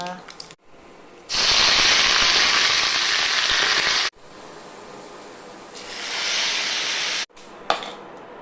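Mustard seeds and fenugreek sizzle in hot oil while tempering a papaya curry, loud spitting hiss in bursts with short pauses between, and a voice speaks at the start.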